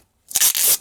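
Scissors slice through a cardboard box in one short burst after a brief silence, a close, loud scraping cut with a slight pause midway and no talk.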